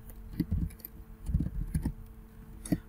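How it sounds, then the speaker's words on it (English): Someone types on a computer keyboard: soft, close clicks in short uneven bursts, with a pause in the middle and a lone keystroke near the end. "So here I will type the decoy IP address."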